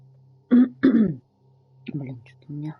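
A person clears their throat and coughs in short, close bursts, two sharp rasps followed by a pair of lower grunting clears over a low steady hum.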